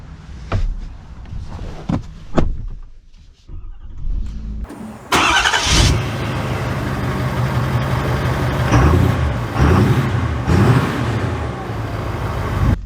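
After a few quiet thumps and clicks, a 2024 Ford F-350 Lariat diesel truck engine cranks and starts, settling into a steady, loud, rumbling run.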